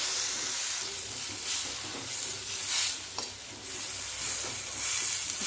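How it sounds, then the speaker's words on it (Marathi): Ground spice masala with tomato sizzles in oil in a pan for a vegetable curry, soft hissing frying under repeated scraping stirs, close and steady with no talking. "छान परतून घेतलं ना मसाले छान असे"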